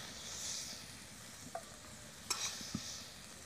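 Shrimp fry in a little oil in a pan, a soft, quiet sizzle broken by a few distinct clinks and scrapes of stirring.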